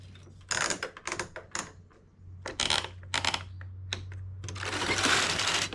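A knitting machine set with 70 needles runs two strands of yarn, its carriage clattering in bursts of rapid mechanical clicks and rattles over a steady low hum, ending in a longer whirring pass.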